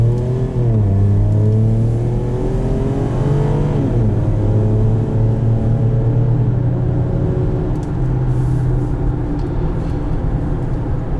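A 2014 Lincoln MKX engine pulls steadily from inside the cabin on a test drive, its drone rising through the gears with a shift near four seconds, loud and continuous with no talking.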